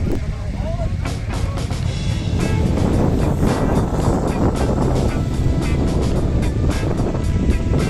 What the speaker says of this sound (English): There's a bit of wind up here